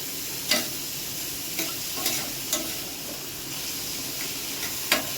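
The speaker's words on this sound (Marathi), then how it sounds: "कांदा आपण फास्ट गॅसवर परतून घेतोय" Onion with a pinch of salt sautés over a high flame for spicy brinjal bharit, a constant close sizzle broken by several sharp clicks of a spatula scraping the pan.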